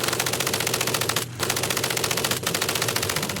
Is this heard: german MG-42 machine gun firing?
yes